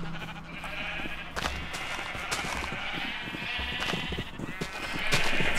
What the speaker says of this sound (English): Downstairs, there's a lot of sheep, and this is a reduced flock from what we used to have.